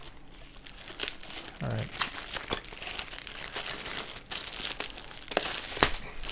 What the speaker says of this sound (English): let's just unwrap these pieces real quick. They had to use tape, jeez.